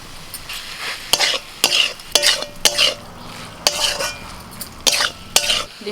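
Taro leaves stir-fried with prawns in a pan, loud sizzling broken by repeated scraping strokes and metallic knocks of a spatula against the pan in an irregular rhythm, close and clear with no speech.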